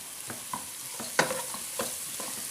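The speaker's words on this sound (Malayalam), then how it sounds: "എല്ലാ വെജിറ്റബിൾസും ഇട്ടിട്ട് നന്നായി മിക്സ് ചെയ്യുക." Vegetables for pasta stirred and tossed in a hot pan, a few scraping strokes over a light sizzle, close and fairly quiet with no talking.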